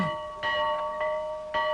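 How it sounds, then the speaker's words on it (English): A farm dinner bell rings out in a few clear metallic strikes, each leaving a sustained ringing tone that overlaps the next, heard nearby with nothing else. "When the dinner bell rings, no one has to call the girls twice."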